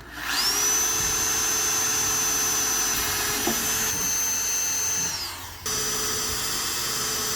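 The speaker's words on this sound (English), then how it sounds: "I'm gonna use a much smaller drill bit, and then I'll use a 7/16 to make the hole." A power drill whines at high speed for several seconds, steady and close, drilling a small pilot hole for a Jeep rear fender, then winds down and stops before a brief restart.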